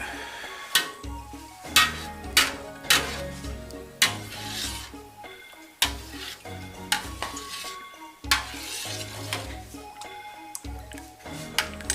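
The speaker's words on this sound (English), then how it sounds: "So give that a stir for a minute." Milk being stirred in a metal pot while making Caerphilly cheese, a spoon scraping and knocking against the pot in repeated close strokes, with clinks and rubbing sounds.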